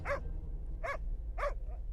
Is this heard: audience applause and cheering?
no